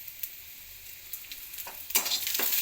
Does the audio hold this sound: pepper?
yes